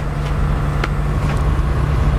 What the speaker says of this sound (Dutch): Ja, de vrachtwagen.